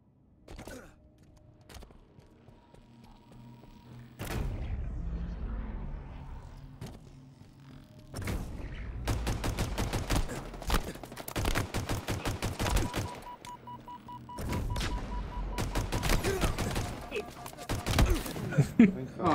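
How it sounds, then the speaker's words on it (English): Rapid bursts of gunfire from the Halo Infinite video game, including shotgun blasts and automatic fire, crack in dense clusters with brief pauses between them, loud and close, while a player talks over parts of the action. "I'm having too much fun just flying back and forth between the sides, just shooting people."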